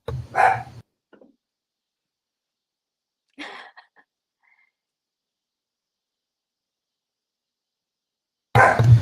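Dogs barking at home, heard in short separate bursts: a loud bark at the start, a fainter one midway and another loud bark at the end, with long silences between.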